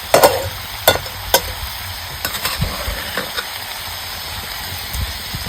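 Crushed peanuts go into sautéing vegetables, and a spatula scrapes and knocks against the pan in irregular strokes over a soft, continuous sizzle.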